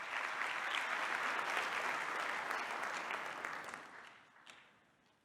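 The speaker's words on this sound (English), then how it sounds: "A round of applause for Ambassador." An audience at the opening ceremony of the World Science Forum applauds the ambassador with sustained, full clapping across a large hall that fades out toward the end.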